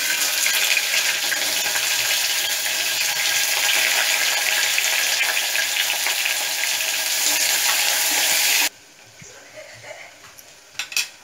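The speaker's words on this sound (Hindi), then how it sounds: "थोड़ा सा जीरा, और अब प्याज डालेंगे।" Onions with cumin fry in a pan for a jackfruit curry, a loud, dense, continuous sizzle close by that cuts off abruptly, followed by quieter clatter and a couple of utensil knocks.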